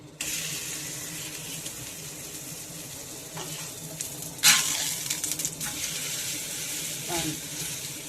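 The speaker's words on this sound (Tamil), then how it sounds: "இப்போது எண்ணெய் ஊற்றலாம் எண்ணெய் ஊற்றிட்டு அடையப்போம்" Ragi adai cooking in oil on a pan, with a steady sizzle that runs the whole time and a sharper burst partway through, plus a few faint handling sounds.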